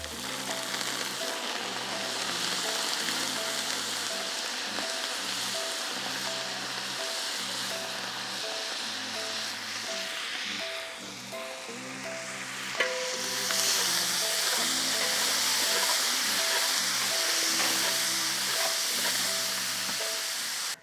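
Asafoetida and curry leaves fry in hot oil for traditional pulihora, a steady close sizzle with crackling and stirring throughout, swelling louder in the last few seconds.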